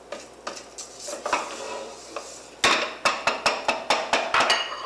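A metal spoon stirs lentils in oil and scrapes the sides of a pot, a run of sharp rhythmic clanks and scrapes that grows louder and quicker toward the end.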